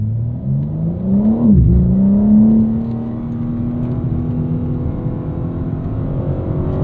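BMW M4 pulling away on a race track, engine note rising and dipping at a shift, then holding a steady whirring drone as the car accelerates, fairly close and continuous.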